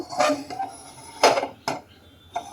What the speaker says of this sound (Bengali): এবার কড়াই বসিয়ে দেব